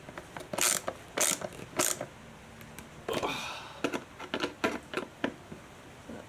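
Ratchet wrench tightening bolts on a Suzuki DR650 front fender brace: short, sharp bursts of rapid clicking and scraping, repeated in uneven strokes, close and fairly quiet.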